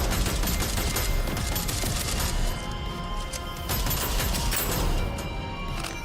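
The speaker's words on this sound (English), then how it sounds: "Hip firing with his pistol sucks." Rapid, dense pistol fire hip-fired in the shooter game Deadzone: Rogue, a continuous clattering volley running for about six seconds with crashing impacts and mechanical clicks, loud and close with no talking.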